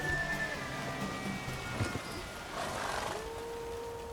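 Galloping horse during a race in The Witcher 3, a steady drumming of hooves with a whinny and rain-like hiss, with a brief game voice mixed in.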